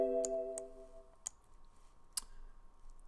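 Several sharp, light computer mouse clicks, spaced irregularly and close, in a quiet room, with a faint musical tone fading at the start.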